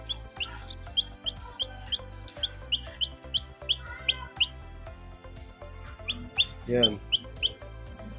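Small chicks peep in quick, high chirping bursts while feeding at close range, with occasional louder clucks from a hen and a brief spoken word.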